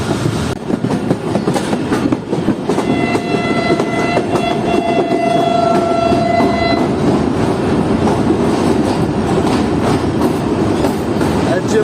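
Train rolling into Kotri Junction railway station on the Karakoram Express run from Karachi Cantt, a steady loud rumble of wheels and carriages with a sustained tonal whine or horn midway, continuous throughout.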